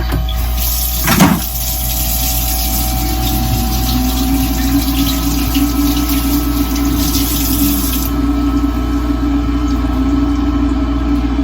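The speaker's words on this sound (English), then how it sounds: "I'm gonna wash my hands real quick." A kitchen or bathroom tap runs steadily while someone washes their hands, a continuous close rush of water holding even for most of the stretch, with a brief bump of handling near the start.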